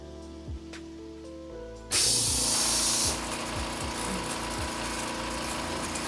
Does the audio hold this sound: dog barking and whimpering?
no